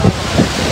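Wind buffets an outdoor microphone in two short gusty rumbles, low and loud, with a steady windy hiss between them.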